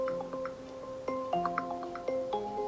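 An iPhone iOS 17 ringtone plays a bright, plucked melody of quick bell-like notes with a gentle rhythmic pulse, clear and close.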